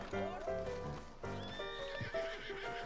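A horse in the Western video game Red Dead Online whinnies and its hooves clip-clop in a rhythmic pattern, heard clearly in the game's audio alongside the players' voices.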